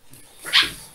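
Puppies playing let out a single short bark or yip, close and fairly loud against a quiet room.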